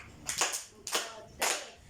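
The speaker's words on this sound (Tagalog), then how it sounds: "Bigyan ng 3 palakpak." A class of pupils gives three loud bursts of clapping, evenly spaced and each fading quickly, with no talk over them.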